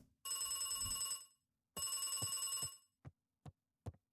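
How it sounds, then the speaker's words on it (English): An old-style telephone rings in the video game Beacon Pines, two long electronic bell rings followed by a few short clicks, fairly quiet with no talking. "Oh, there's a phone there."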